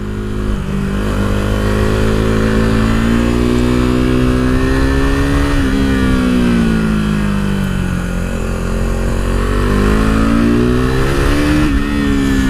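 A KTM RC390 motorcycle engine drones loud and close on a test ride, its pitch rising and falling through several rev swells over a steady buzzing roar, with no talking.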